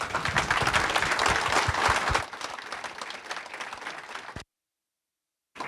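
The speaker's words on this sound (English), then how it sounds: "please give our panelists a round of applause again" A conference audience claps for a panel, starting as a loud, thick burst of applause that thins into scattered, softer claps before dropping into silence.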